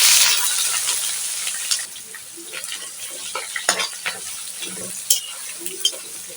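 Chopped onion dropped into hot oil with bay leaf, cinnamon, cardamom and four dried red chillies for a chicken curry, sizzling loudly at first then settling into a steady fry with scattered crackles and stirring clinks, no talk.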